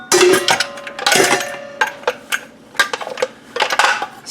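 Plastic and metal parts of a vegetable slicer clack and click as the thinnest slicing blade is fitted into place, a series of sharp close knocks and rattles with short pauses between them.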